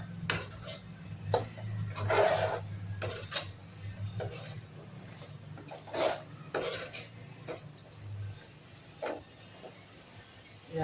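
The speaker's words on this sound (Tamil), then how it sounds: "இது கலந்து விட்டுட்டு கொஞ்ச நேரம் அப்படியே எண்ணெயிலே வதங்கட்டும்." Spices stirred into oil in a pan for a raw banana thokku, with repeated metal scrapes and clinks of a spoon against the pan over a low steady hum, loud bursts spaced irregularly.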